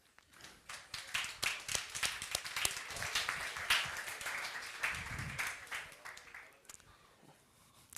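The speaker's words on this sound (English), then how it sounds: "Can I have an applause for Team Mindchip?" An audience at a hackathon finale applauds Team Mindchip, a swelling round of clapping that builds, holds and fades out over several seconds, with faint voices beneath.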